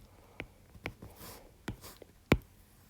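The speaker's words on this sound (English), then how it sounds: "let me just write it over here" Handwriting a final math answer with a pen on paper, a few faint scratchy strokes and taps spaced irregularly in a quiet room.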